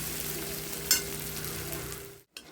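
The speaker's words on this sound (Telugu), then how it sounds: "ఇదిగోండి 8 మినిట్స్కి ఇంత ఫ్రై అయిపోయినాయి, ఇంకా చాలు ఫ్రై అవ్వడం." Thick poha flakes frying in a pan, a close, even sizzle with a brief sharp stirring scrape, steady throughout before a short cut near the end.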